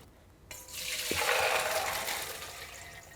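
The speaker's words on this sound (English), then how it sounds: "We're gonna start by rinsing off these beans and straining them." Tap water gushes into a kitchen sink as beans are rinsed and strained. The steady splashing rush starts abruptly and carries on loud and close, with no talking.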